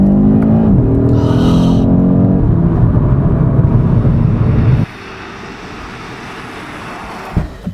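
Audi RS 3 Sportback with a five-cylinder engine, fitted with modern rear particulate filters, revving loudly and close with rising harmonic tones, then settling to a lower steady drone before a couple of sharp bursts at the end.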